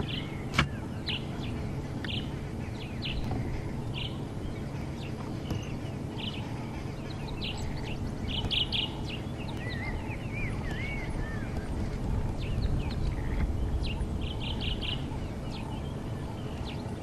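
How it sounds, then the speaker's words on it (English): A bird chirps in short scattered calls, some trilled, during an early-morning safari drive, mid-distance over steady low vehicle and outdoor rumble. Brief faint voices occur. "I can hear it chirping."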